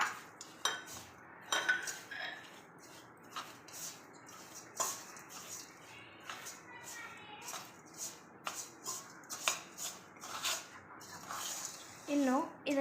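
A spoon scrapes and clinks against a metal vessel while palm jaggery laddu mixture is stirred, with soft irregular knocks and scrapes at close range and someone talking over it.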